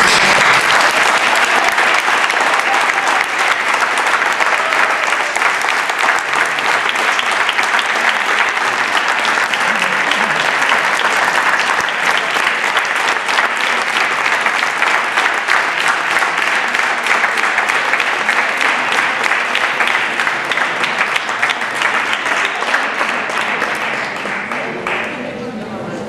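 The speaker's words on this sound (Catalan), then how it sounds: "ara nosaltres us volem aplaudir a vosaltres" Sustained audience applause after a theatre performance, dense and steady clapping from a large crowd lasting throughout, tapering slightly at the very end.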